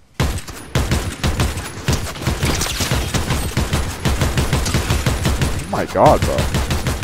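Rapid SMG and rifle gunfire in Fortnite Chapter 4 Season 3, dense bursts of shots running almost without pause from start to end, loud and close, with a voice briefly exclaiming near the end.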